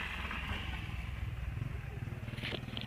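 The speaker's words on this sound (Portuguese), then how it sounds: "Ó a moto que tá me irritando." Motorcycle passing outside, a continuous rumbling engine drone with pulsing low throb, fairly loud and steady throughout, with some clatter near the end.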